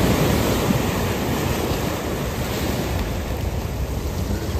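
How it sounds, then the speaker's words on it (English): Ocean surf breaks along the shore at Monifieth and Arbroath as a loud, continuous rushing wash, mixed with wind buffeting the microphone and no talking. "this seems to be the place for the waves to be cracking open here"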